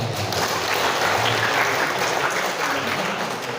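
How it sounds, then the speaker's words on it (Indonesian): Students and staff at a vocational school fashion-design competency exam give the school a round of steady, even applause, filling the room at moderate volume without speech. "tepuk tangan buat sekolah"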